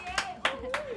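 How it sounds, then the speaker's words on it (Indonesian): Three sharp hand claps spaced evenly across a second, close and fairly loud, with a steady tone and faint voice underneath. "Tepuk tangan lu dong."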